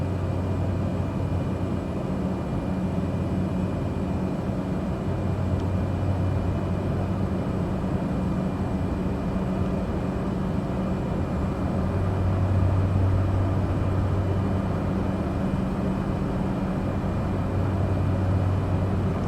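Small bush plane flying over the mountains of Papua, Indonesia, between Ilaga and Mulia, its engine a steady, loud, unbroken drone that holds throughout.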